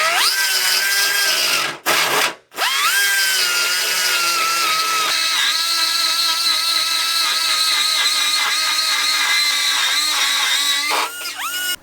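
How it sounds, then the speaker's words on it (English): A die grinder cuts away metal in the engine bay of a turbo LS-swapped Honda Civic, a loud high-pitched whine held steady with brief stops and restarts and shifting pitch under load. "I can stick my die grinder into the hole, and then I can move up towards the exhaust and remove a bunch of material right here"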